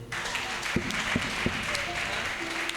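A church congregation applauds and cheers, a steady wash of clapping with a few sharper claps standing out, while a voice briefly carries over the crowd.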